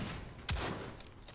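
Gunshots from a powerful weapon in the video game Wolfenstein: The Old Blood: one loud blast with a deep low thump at mid-clip, a sharper crack near the end, and game noise running throughout.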